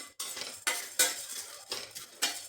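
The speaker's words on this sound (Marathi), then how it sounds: "सगळं भाजून घ्यायचं लो फ्लेमवरती छान भाजून घ्यायची खमंग" Sambar masala spices dry-roast in a pan over a low flame while a spatula stirs them, making rhythmic scraping strokes and light metallic clinks every half second or so, close and dry, with no frying hiss.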